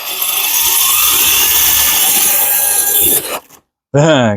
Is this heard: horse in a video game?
no